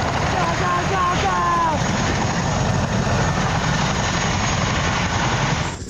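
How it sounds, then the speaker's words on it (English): Medical evacuation helicopter in flight over Afghanistan during a Royal Marines casualty evacuation, its loud steady rotor and engine roar filling the scene throughout, with voices shouting faintly underneath. "The medical team on the helicopter continued the battle to bring Vicey back from the brink"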